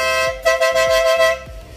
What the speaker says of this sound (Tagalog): Ayun sa loud horn